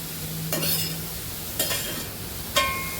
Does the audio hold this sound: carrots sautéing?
yes